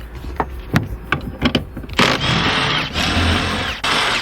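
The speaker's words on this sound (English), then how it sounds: "we want to remove these 4 14mm bolts" Mechanical clicks and ratcheting as 14mm bolts are loosened from the rear seat of a Toyota Tacoma, starting as sharp intermittent clicks and then settling into sustained close-up whirring with short breaks.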